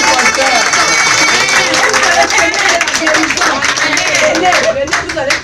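A church congregation claps and applauds at a prophet's service, dense rapid clapping with crowd noise running loudly throughout, mixed with voices and shouting, fading slightly at the end.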